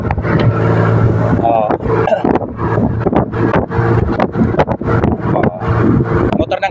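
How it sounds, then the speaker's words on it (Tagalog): A small Filipino motor boat (bangka) engine runs with a steady low rumble under gusty wind buffeting and frequent loud talk from people aboard. "sumakay na si Slash ng bangka"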